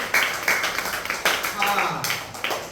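Children in a classroom clap together in short bursts of applause, several rounds of quick claps close by, with a teacher's voice speaking over them.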